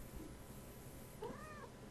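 A house cat gives a single drawn-out meow late in the stretch, fairly close but soft, over quiet indoor room tone.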